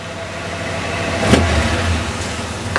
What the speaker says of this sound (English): the engine is revved up because the automatic choke is on